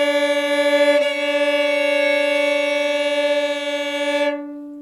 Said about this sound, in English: you're going to hear this beating or wah wah wah wah wah wah wah sound